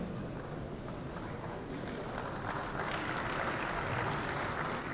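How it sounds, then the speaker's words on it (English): An audience at a government event on a state development vision claps in a continuous, broad roar of applause, distant and somewhat muffled, with no clear voices over it. "that's why they're clapping for you"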